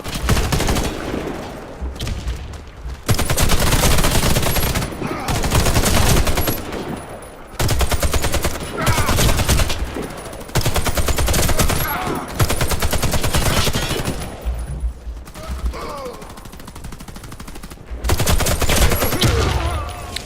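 Loud, close gunfire from the online shooter Warface rattles in long automatic bursts separated by brief pauses, dense and repeated across the whole stretch.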